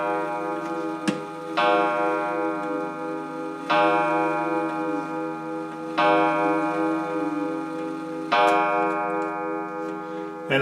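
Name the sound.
restored German pendulum clock ticking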